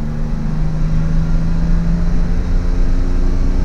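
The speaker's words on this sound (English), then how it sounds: "The car revs very freely." A 1973 BMW 3.0 CSi (E9), fuel-injected six, runs with a loud, steady engine drone and faint harmonic whine, heard close and alone without rising revs.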